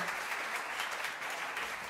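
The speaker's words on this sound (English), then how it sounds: "You can clap them off the stage." An audience at a tech inclusion event claps as panelists leave the stage, a steady, fairly faint wash of applause with no talking.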